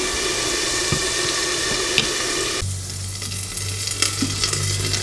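Breakfast potatoes with onions and red peppers fry in a pan, a loud continuous sizzle that drops slightly partway through as a low hum enters, with a few stirring knocks and no speech.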